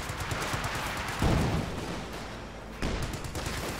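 Rapid bursts of gunfire and impacts from an M8 armored car fighting in the strategy game Company of Heroes 2, dense and continuous crackling shots with louder surges around the middle and near the end.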